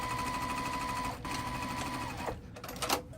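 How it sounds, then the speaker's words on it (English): A sewing machine stitches down the binding on a red, white and blue quilt, a steady rapid mechanical whir that runs for about two seconds and then stops, followed by softer handling noises. "I'm going to be back stitching just bar tacking it down, not bar tacking it, stitching it down real quick"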